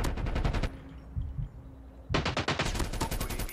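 Rapid automatic gunfire from a CoD Mobile match (Call of Duty Mobile, Krig rifle in ranked play), loud close bursts with a short pause before a second sustained volley.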